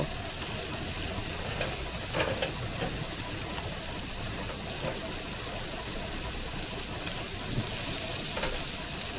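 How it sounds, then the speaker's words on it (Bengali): Chepa dried fish frying in a pan with garlic and onion, giving a steady, loud sizzle throughout with occasional faint clinks of stirring. "চাপা ছুটকি ভাজা হয়েছে এখন আমি চেপা ছুটকির মধ্যে রসুন আর পেঁয়াজ দিয়ে দিব"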